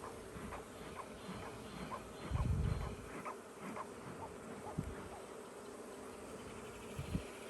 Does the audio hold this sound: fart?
no